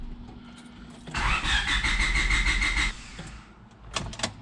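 A 1999 Honda Civic EJ8 with a turbocharged D16Y8 engine cranking and trying to start, a loud, close whirring churn lasting about two seconds before cutting off, followed by a few clicks.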